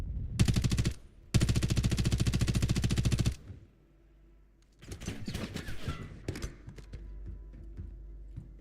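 Rapid bursts of automatic gunfire in the battle royale game Warzone, two long loud strings of rounds, then a quieter pause before scattered impacts and smaller shots close by.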